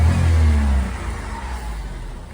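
A turbocharged Honda Vamos kei van engine revs up sharply and then settles back toward idle, close and fairly loud, alone with no voices.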